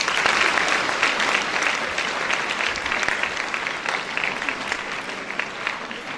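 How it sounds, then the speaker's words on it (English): Audience applause welcoming guests onto the stage at a school day event, a dense, steady clapping from a large crowd that stays loud throughout and tapers only slightly toward the end. "Please welcome all of them on the stage with your applause."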